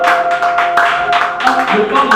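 A church congregation at a French-language praise service claps hands together in a dense, continuous patter of many hands, with voices and music mixing underneath at close range.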